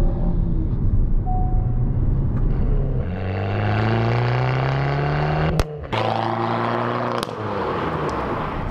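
An electric Fiat 500 in normal mode pulls away from a standstill, its motor whine climbing steadily in pitch over a low road rumble, with a couple of brief knocks near the end and no talking.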